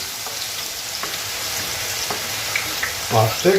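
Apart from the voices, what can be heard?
onions frying in plenty of oil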